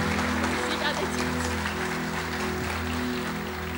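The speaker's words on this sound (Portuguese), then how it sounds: "Celebre com palmas." A church youth congregation claps together during a testimony service, a dense, steady wash of applause lasting the whole few seconds under a sustained musical backing.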